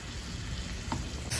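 Chicken croquette mixture sizzles steadily in a pan, with a soft continuous frying hiss and a brief clink of stirring near the end, no voices.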